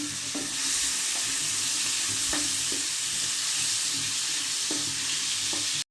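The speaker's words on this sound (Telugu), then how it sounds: "కొంచెం ఆయిల్ హీట్ అయిన తర్వాత మనం పక్కన పెట్టుకున్న రొయ్యలు ఏవైతే ఉన్నాయో ప్రాన్స్ అవి వేసుకొని ఫ్రై" Prawns fry in hot oil with turmeric in a pan, giving a loud, continuous close-up sizzle broken by a few scraping stirs of the spatula, with no voices.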